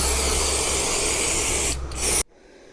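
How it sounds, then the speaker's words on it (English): Spray glue hisses steadily onto the back of a headliner for a 1974 VW Beetle. The close, continuous spray briefly dips, surges again, then cuts off abruptly to near silence. "I'm going to spray the back of the headliner and spray along here, let that go tacky"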